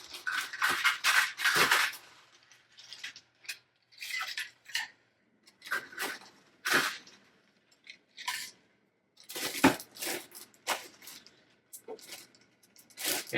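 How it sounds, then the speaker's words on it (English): Crushed ice dropped and scooped into a slightly oversized cocktail glass while mixing a cucumber and sea salt sling, giving several bursts of crunchy clatter and rattling, close and moderately loud, separated by short pauses. "I'll put a little crushed ice in that."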